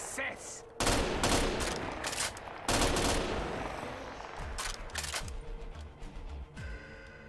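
Loud bursts of gunfire from a gun in a video game, with rapid volleys that start hard, sustain briefly and recur several times, a quieter stretch, then more shots.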